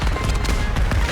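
A misfiring wand in the Hogwarts Legacy video game crackles with a dense, loud burst of popping, bang-like fireworks, rapid and close, lasting about a second.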